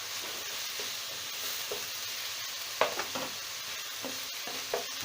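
Chopped onion fries in oil in a pan over high heat, a steady close sizzle broken by a few sharp scrapes and knocks as a spoon stirs it.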